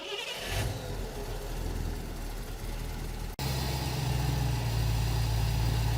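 A car engine with Sniper EFI and a magnetic pickup distributor idles with a low rumble, then after a sharp break it settles into a deeper, stronger running hum; no one speaks.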